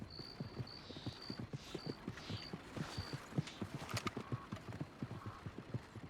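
Hooves clip-clop in a steady, brisk rhythm of a horse pulling a wagon, moderately near, with faint high chirps and creaks around it.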